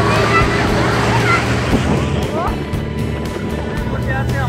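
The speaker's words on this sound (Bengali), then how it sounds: "এই যে বোট চালু হয়ে গেল" Speedboat engine starting and running on open water during a hill-country outing near Dhanbad, a steady low motor drone with water wash, under excited chatter from passengers close by.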